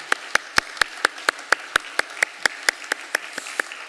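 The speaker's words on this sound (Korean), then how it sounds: "우리 두 가정 박수로 환영하겠습니다." Steady rhythmic applause from a church congregation welcoming new members at a Sunday service, about fifteen evenly spaced sharp claps in quick succession, close and clear with no talk over them.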